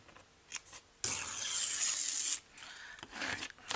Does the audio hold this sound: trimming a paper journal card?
yes